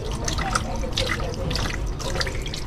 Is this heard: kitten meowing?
no